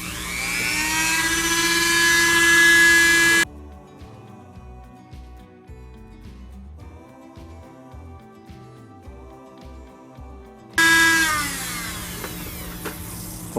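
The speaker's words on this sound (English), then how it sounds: "Now we have here the Dremel tool." Dremel rotary tool fitted with a sanding wheel grinds plastic RC car body: a loud, high steady whine for about three seconds, then quiet background, then the whine returns near the end.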